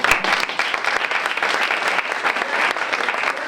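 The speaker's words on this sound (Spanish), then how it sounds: "Un aplauso también para ellos, para las terrazas." Audience at a storytelling event claps loudly for a local terrace bar sponsor, dense continuous applause from a room full of people for a few seconds, close and even.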